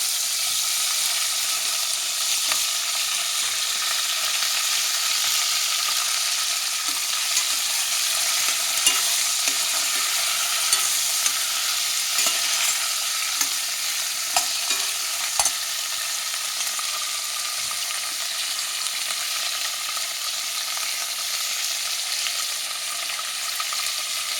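Capsicum (bell pepper) frying in hot oil in a cooker, a steady bright sizzle throughout with occasional scraping knocks from stirring, close and fairly loud with no talking.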